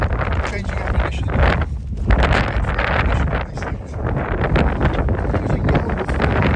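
Wind buffets the microphone at an outdoor shooting range, a steady, close, full-bodied roar with gusty swells and a brief lull near the middle, with no other distinct sounds.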